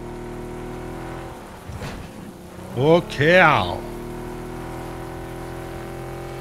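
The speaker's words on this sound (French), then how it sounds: "Il commence à pleuvoir." Rain falls in a PUBG match, a soft steady patter across the background while players talk briefly over it, with a vehicle engine humming underneath.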